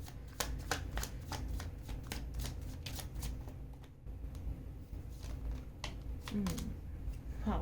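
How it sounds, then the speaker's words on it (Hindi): Tarot cards are shuffled up close in quick, papery riffles, a dense run of soft slaps that pauses briefly midway and then resumes steadily. "हम फिर से शफल करते हैं"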